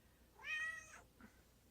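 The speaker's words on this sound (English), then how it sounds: "She's our rescue cat." A rescue cat gives one clear, drawn-out meow followed by a short, softer chirp, close by and fairly quiet against a faint background hiss.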